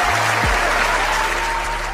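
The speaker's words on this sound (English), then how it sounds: "Clap it up for me knowing that." An audience gives steady, dense applause for two seconds, a continuous wash of many hands clapping under a low hum.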